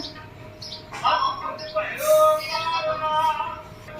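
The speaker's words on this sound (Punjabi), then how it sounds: "ਉਹ ਦੇਖੋ ਬੈਠੀ ਚਿੜੀ" Bright, short sparrow chirps repeat through the clip over a faint background murmur, fairly close and clear, near a nest.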